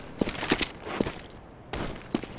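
Gunfire rings out in a bomb-defusal style shooter video game: several sharp, separated shots crack out in a loose cluster, then a pause and another lone shot, all fairly close and punchy.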